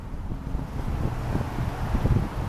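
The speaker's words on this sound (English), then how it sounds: "I just had to get out of the wind" Steady outdoor wind buffets the microphone with a constant low rumble and gusty roar. No other sounds are clear.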